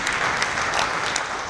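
An audience at an education panel claps in a dense, sustained burst of applause, loud and close, with no voices over it.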